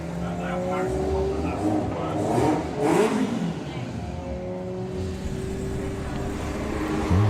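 A Volkswagen Golf R and a Golf GTI, one three-door and one five-door, drag racing at a VW drag racing event; a loud engine roar builds and revs under continuous commentary.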